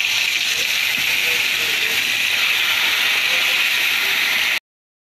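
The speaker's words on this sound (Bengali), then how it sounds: "তো কড়া করে মাছটা ভাজতে হবে।" Koi fish, already rubbed with salt and turmeric, frying in hot oil in a wok, giving a steady, loud hiss and bubbling that runs unbroken before cutting off abruptly near the end.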